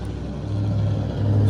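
A truck passes nearby during a HELLCAT 300 window install, a steady mid-low engine rumble that swells and holds loud through the brief moment, with no talking.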